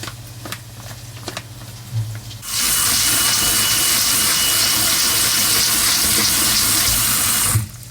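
Rice is rinsed under a running tap, a steady loud rush of water filling a bowl or sink that starts after about two seconds of quieter handling noise and continues without pause before cutting off.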